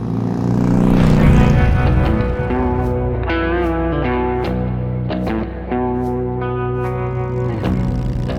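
An Indian Chieftain V-twin motorcycle engine rumbles loud and close, with deep throbbing revs that rise and fall through several throttle blips, with no voices.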